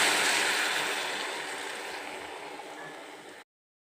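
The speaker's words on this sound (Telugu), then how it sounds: "వాటర్ పోసుకోవాలండి." Water poured into a hot pan of fried green chillies, onions and curry leaves seasoned with salt, chilli powder and turmeric for a fish curry with tender tamarind leaves: a steady, loud rushing hiss that gradually fades, then stops abruptly.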